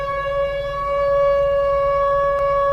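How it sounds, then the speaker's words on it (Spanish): A factory whistle siren, one of the sirens of a town's linen and cotton mills, holds a steady, loud harmonic tone throughout, sustained and unbroken with a faint low rumble beneath. "había un sonido que determinaba con la exactitud de un reloj suizo qué hora era: la del pito de la fábrica"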